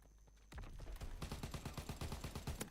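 Rapid bursts of gunfire from the World War II shooter Call of Duty WWII, starting after a quiet half second and then rattling on steadily as a dense, loud stream of shots with no talking.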